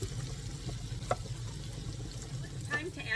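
Butter melting in a pan for shrimp scampi, a faint low sizzle and bubbling with a few soft clicks of utensils.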